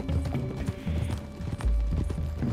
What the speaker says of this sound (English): Are you riding that Arthur, horse?